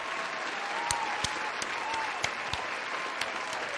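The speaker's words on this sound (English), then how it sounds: "we'll give you another round of applause" Steady applause from a crowd fills the clip, a dense patter of many hands clapping with a few sharper claps standing out, fairly distant.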